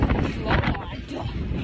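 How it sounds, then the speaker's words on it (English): Strong outdoor wind buffeting a microphone, a loud continuous rumbling roar with a person talking over it. "I'm not even sure if y'all can hear because the wind is so strong"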